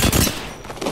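Video game gunfire, a dense close burst of rapid shots lasting about a second, loud and rattling with no voices.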